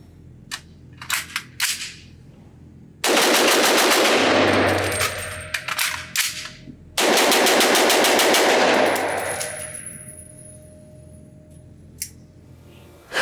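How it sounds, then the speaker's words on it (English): A Noveske .300 Blackout AR pistol fires several quick single shots, then two long rapid strings of sharp, loud reports with ringing decay, separated by a quick magazine change with metallic clicks, no talking. "if I can shoot this thing fast, get that magazine out, put a new one in, get the gun back in action"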